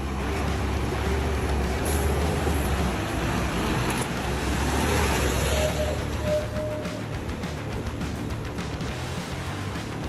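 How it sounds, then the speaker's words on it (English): Heavily loaded timber trucks roar along a forest road, a loud continuous low engine rumble with passing traffic hiss and a brief brake squeal, steady throughout. "the roaring engines shatter the silence of the forest"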